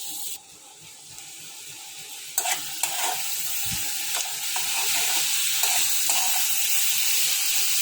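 Potatoes and vegetable stems frying in a pan make a continuous bright sizzle that grows steadily louder, broken by a few scraping stirs of a utensil, close up with no talk.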